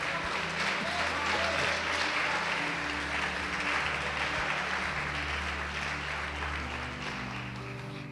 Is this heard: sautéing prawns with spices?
no